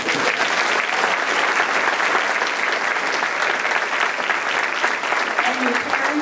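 Sustained, dense applause from an audience at a high school honor cords ceremony, loud and continuous throughout with no break.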